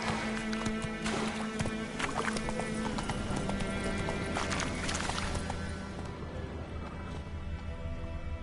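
Roach, a horse in The Witcher 3: Wild Hunt, gallops with rapid, loud, close hoofbeats that pound steadily for several seconds, then thin out as the run eases.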